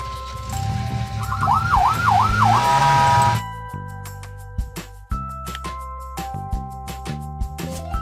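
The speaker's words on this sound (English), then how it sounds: "Police car." A toy police car siren gives a loud wavering wail for a few seconds, then cuts to a bright, rhythmic electronic tune.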